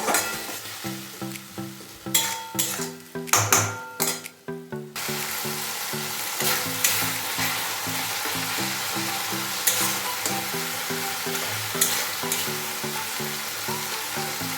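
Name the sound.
spice and bean seed paste frying in a pan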